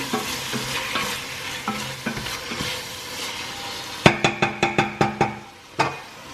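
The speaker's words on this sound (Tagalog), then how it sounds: "So, hintayin lang natin mag-brown yung ating chicken." Chicken pieces browning in a pot of carrots, a steady low sizzle and stirring, then a run of sharp metallic taps of a utensil against the pot near the end.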